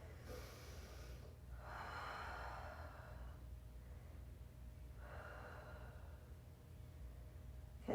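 Heavy breathing after a Pilates exercise: three long, breathy exhales at a steady, unhurried pace, with a soft rush of air in each, heard close over a constant low background hum.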